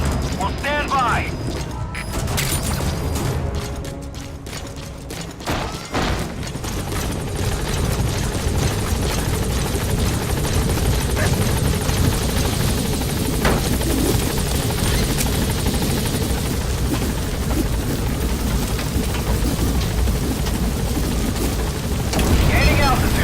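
Support helicopter in Metal Gear Solid V, a continuous loud rotor thrum with mechanical whine filling the whole stretch, a few sharp knocks early on, with game voices and radio chatter over it.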